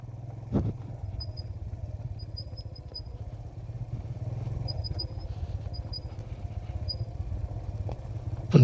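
A motorcycle rides over small loose stones on a valley road near Skardu, its engine droning steadily and close, with a few faint clicks and knocks over the continuous hum.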